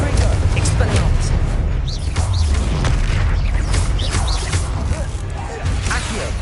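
Spell explosions in the video game Hogwarts Legacy, deep booms and crackling blasts in a constant battle din, with a voice shouting spell names over them.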